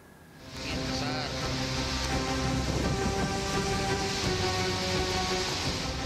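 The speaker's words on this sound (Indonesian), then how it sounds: "Hujan disertai angin kencang menyapu sejumlah bangunan di Padalarang, Bandung Barat, Jawa Barat pada Minggu petang." Heavy rain driven by strong wind over Padalarang, West Bandung, a dense, steady roar that swells in after the first half second and then holds loud and unbroken, with a low drone running beneath it.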